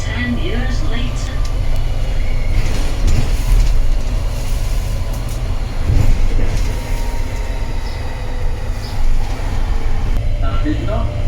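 A Victorian tram from 1902 on the Llandudno line rumbles along steadily with a low rolling drone, faint wheel squeals and rattles rising now and then, while people talk in the background.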